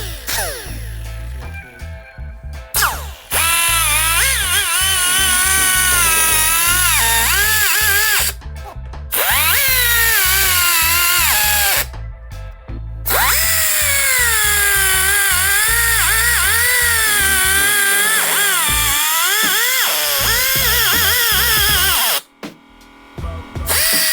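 A power tool cuts into a Lexus engine cover, whining loudly and steadily in long close bursts with its pitch sagging and rising under load, separated by short pauses.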